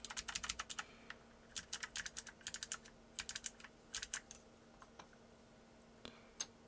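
Rapid bursts of typing on a TheVan MiniVan R2 keyboard with Blue Alps switches, crisp clicky keystrokes in quick runs separated by short pauses, close and clear over a faint steady hum.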